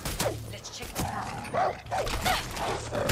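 In the video game Far Cry 6 a dog yips and barks repeatedly at close range, short bursts over game noise and clattering, with someone talking at times.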